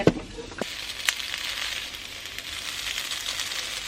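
Tomatoes sizzling in a hot pan, a steady bright crackle after a couple of sharp clinks at the start, near and fairly loud with no voices.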